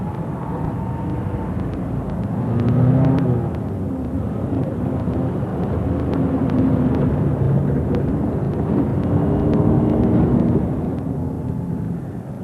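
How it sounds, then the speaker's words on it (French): A small airplane flying at low altitude, its engine a steady, fairly loud drone with a broad rumble that swells slightly as it passes, alone with no voices. "Les poursuivants utilisent même un petit avion piloté par un Européen spécialisé dans les vols à"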